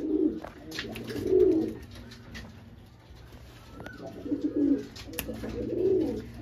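Red Madras pigeons cooing in soft, repeated rounded phrases, four bursts roughly evenly spaced over several seconds, close by with faint background noise and no talk.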